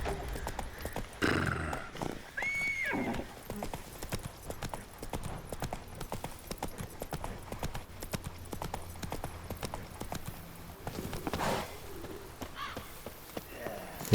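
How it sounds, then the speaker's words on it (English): Horse hooves clip-clop steadily in The Witcher 3 video game, a rapid, even clatter running throughout at moderate volume, with a brief neigh and faint bird calls in the background. "The teleporting horse, but it's clumsy."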